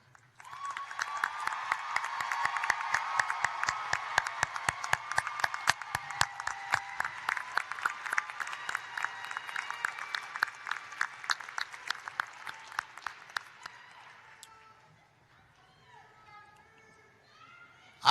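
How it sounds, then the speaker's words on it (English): Audience applause for graduating honorees at a North Carolina Central University commencement ceremony, a sustained crowd clapping in a large hall that gradually thins out and stops. "Please join me in applauding them."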